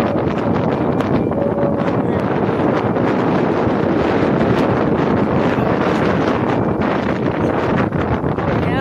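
Strong mountain wind at about 4,700 metres on Nilgiri Himal roars continuously and loudly, buffeting the microphone with a rough, rumbling rush that never lets up.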